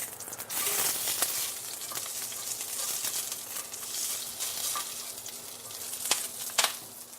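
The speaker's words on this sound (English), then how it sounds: "I'm just going to oil the pan down, nice and hot pan, and lay on my langoustine or Dublin Bay prawn" Langoustine, or Dublin Bay prawn, sizzles in a nice hot oiled pan with a steady, loud frying hiss and occasional sharp crackles and pops, with no voices.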